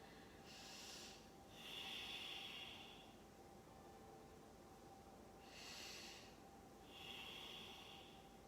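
Slow, deep breaths during a morning Ashtanga yoga and meditation session, soft airy inhales and exhales rising and falling in a calm rhythm, quiet and close, with no talking.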